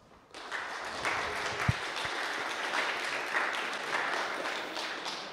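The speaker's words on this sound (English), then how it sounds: "I want a big round of applause for Objective Cologne 2012." Conference audience at the Objective Cologne developer event breaking into steady applause that starts suddenly and continues evenly, moderately distant with a few louder claps standing out.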